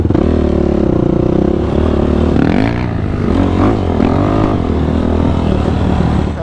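A Yamaha YFZ450R quad ridden off-road, engine revving and bogging in loud surges while gravel and dirt clatter underneath, recorded close from the machine.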